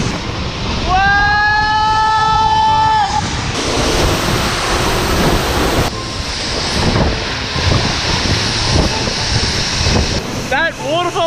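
Powerful waterfall in Bali, a loud, continuous broadband roar of rushing water throughout, with a brief whistling whoop near the start and voices calling out over it.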